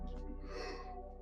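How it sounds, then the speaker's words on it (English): A single drawn-out, voiced yawn from a person close by, rising and then trailing off over about a second. "Apologies for my yawning."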